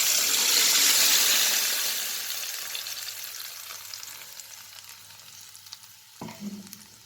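Garam masala paste hits hot oil in a pan, opening with a loud hiss that fades into a softer crackle, then a spoon clinks and stirs near the end.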